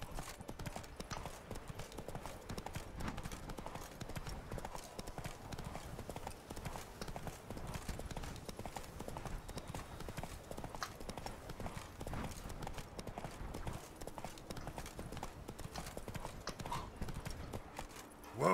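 Roach, the horse in The Witcher 3, gallops in a fast, unbroken drumming of hooves, loud and close, with a few snorts mixed in.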